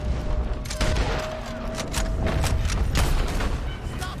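A Red Dead Redemption 2 shootout near a dock, with loud, dense volleys of gunshots and booming blasts cracking in irregular bursts over a rumbling background, with some voices mixed in.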